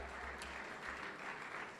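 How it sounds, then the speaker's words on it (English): Faint, distant audience applause at a union lunch gathering, an even spread of clapping through the short span with a low hum beneath. "Chuck Narcho, keep the applause coming, guys."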